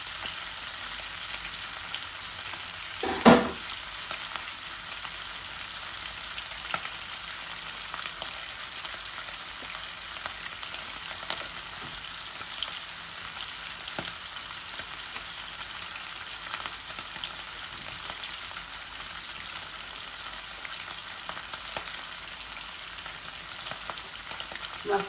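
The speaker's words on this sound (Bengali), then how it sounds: "আমি মাছটারে বেশি বাজতাম না, বেশি বাজিলে মজা যাইব কি।" Hilsa fish frying in a pan, a constant close hiss and sizzle throughout with one louder pop or spatter early on and occasional faint crackles.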